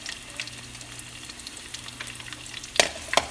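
Green chilies and garlic sauteing in a hot pan give off a steady soft sizzle, with a couple of sharper clinks near the end as they are stirred, close and with no talking.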